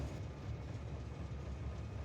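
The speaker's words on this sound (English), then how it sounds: "Another train has unexpectedly returned to the depot." Steady rumbling rail noise of a train rolling back to its depot in the factory-building video game Factorio, a continuous low mechanical drone with no distinct clacks, moderately loud and unbroken.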